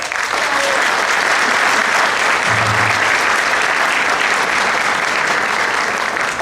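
Loud, sustained applause from an audience at a Lima Bar Association event honoring reelected dean Dr. Raúl Chanamé Orbe, a dense steady wash of many hands clapping throughout, with a brief low murmur partway through.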